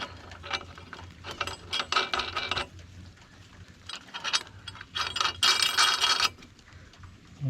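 Bolt with washers and a couple of nuts spun by hand on a welded steel support bracket for a ground-level deck, giving bursts of rattling, ratcheting metal clicks in several quick spells, close and moderately loud.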